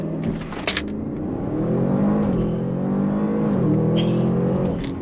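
An Audi RS7 engine revs hard and climbs in pitch as it accelerates, loud and close from inside the car, with brief rattles near the start.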